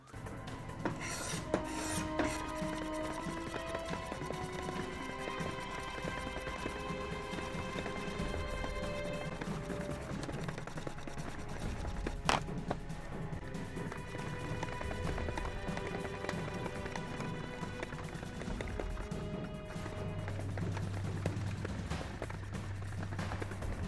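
An oboe reed knife is sharpened on Wicked Edge paddles with 800 and 1000 grit, giving a steady, soft raspy scraping in repeated strokes, quiet and close with no talk.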